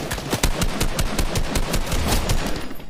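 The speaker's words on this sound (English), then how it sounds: "Someone shooting?" Rapid automatic gunfire in a Fortnite match, a loud, close stream of sharp, evenly spaced shots rattling on steadily for a few seconds with no pause.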